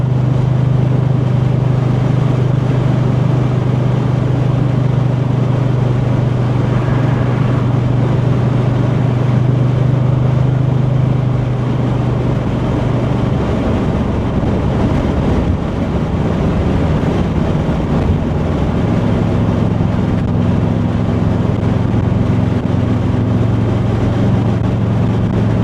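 A 455 big block car with a Turbo 350 three-speed automatic cruising on the highway at fairly high RPM, a loud continuous engine drone under heavy wind and road roar, the engine note shifting about halfway through.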